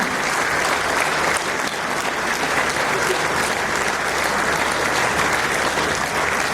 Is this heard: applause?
yes